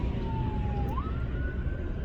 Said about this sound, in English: Hold on, I'm just kind of seeing what this ambulance is doing.